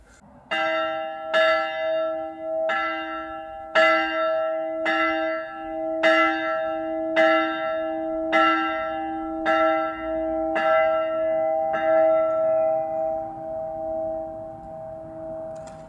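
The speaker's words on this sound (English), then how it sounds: "We can hear the bell." A chapel bell tolls about a dozen times at a steady, slow pace. Each strike rings on clearly, and the last note fades into quiet.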